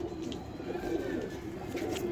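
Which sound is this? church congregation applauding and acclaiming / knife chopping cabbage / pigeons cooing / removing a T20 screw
pigeons cooing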